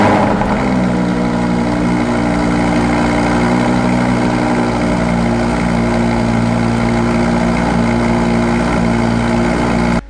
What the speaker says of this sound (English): the exhaust note is, as I mentioned, very crisp and very nice